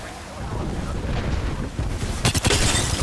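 An airstrike explosion in a first-person shooter game: a loud, sustained roaring rumble that builds, then breaks into a cluster of heavy crackling blasts near the end, with faint voices underneath.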